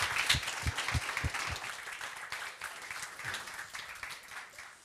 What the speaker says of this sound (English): All right, then big applause.